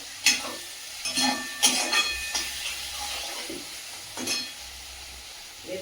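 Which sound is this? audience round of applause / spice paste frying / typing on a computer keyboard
spice paste frying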